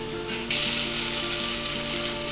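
Taro leaf greens cooking with sugar in a pan, a soft sizzle that swells abruptly into a steady, loud frying hiss and holds evenly to the end, with no voices.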